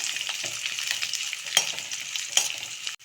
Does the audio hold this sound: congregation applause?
no